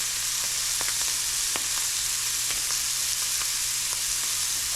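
Scallops frying in a pan give off a steady, dense sizzle with small pops and crackles throughout, close and continuous with no voices.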